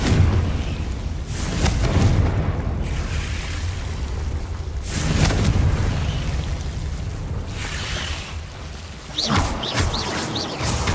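Booming blasts from the Confringo explosion spell in Hogwarts Legacy, heavy low rumbles swelling and fading over a dense game soundscape, loud and close, with several surges across the stretch.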